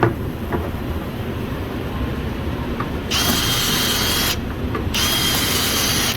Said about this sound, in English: This is the jig we use to drill for the clips